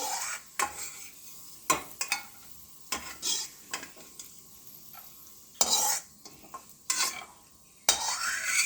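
Sizzling in a pan of ghee with repeated sharp scraping and clinks of a utensil stirring, irregular bursts over a steady frying hiss, close by, while making Tirupati laddu.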